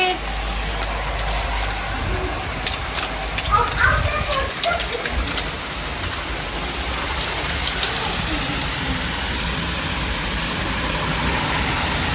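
Steady rain with hail falling outdoors in London, a dense continuous hiss with scattered sharper ticks, heard alone at a moderate level.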